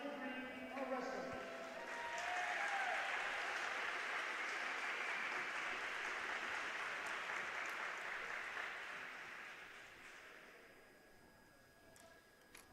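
A crowd applauds graduating senior wrestlers at a high school varsity wrestling meet in an arena. Sustained clapping swells after a voice speaks over a PA, holds steadily for several seconds, then tapers off.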